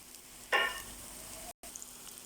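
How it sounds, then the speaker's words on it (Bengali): Onion, ginger and garlic hit hot oil for a biryani base, giving a brief burst of close sizzling that quickly settles into a low crackle over a quiet kitchen, with no talking. "তেল গরম হয়ে গেছে, এখন পেঁয়াজ দিয়ে দিছি। দিয়ে দিচ্ছি আদা রসুন।"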